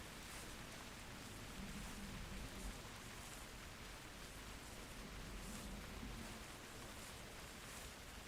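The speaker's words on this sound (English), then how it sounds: "The rain might cover any noise I make." Steady rain in a hunting video game hisses evenly throughout, a constant soft wash of falling drops with no voices.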